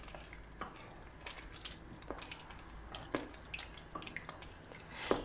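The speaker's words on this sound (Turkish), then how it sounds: "Şöyle karıştırıyorum tuzum erimesi için." A spoon stirs salted vinegar brine in a pot to dissolve the salt, producing soft, irregular clinks and scrapes against the metal over a quiet bubbling background.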